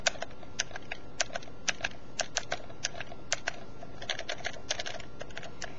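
Quick clicky key presses on an AlphaGrips iGrip handheld keyboard controller, a steady irregular patter of light taps, close and fairly quiet, with no talking.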